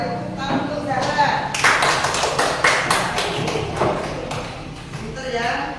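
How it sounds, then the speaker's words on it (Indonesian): A classroom audience claps for a student named Zahra, a ragged burst of applause from a small group that swells and fades, with voices talking over it. "Ya, sudah beri tepuk tangan untuk Zahra."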